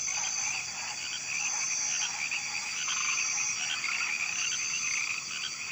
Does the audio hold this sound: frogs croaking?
yes